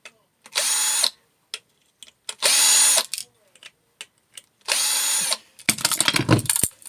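A power drill unscrews screws from a microwave being taken apart for recycling, in three separate whirring bursts of about a second each, separated by small clicks and handling noises, ending with a rattling clatter of loose parts.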